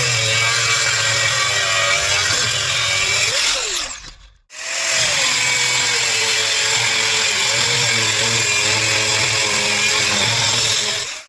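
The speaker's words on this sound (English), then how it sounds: "So I'm gonna be using the angle grinder." A handheld angle grinder cuts through a Harbor Freight steel prybar. The high harsh whine runs loud and continuous, stops briefly, then resumes at full strength.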